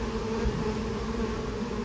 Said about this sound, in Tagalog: Malaki itong bubuyog nito. Drone po yan.